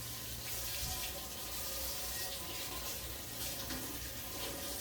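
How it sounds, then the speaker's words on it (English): Water runs steadily from a kitchen tap as a spoon is rinsed beneath it, a continuous close hiss and splash that holds at an even level for the whole stretch. "Now let me rinse my spoon off and taste it."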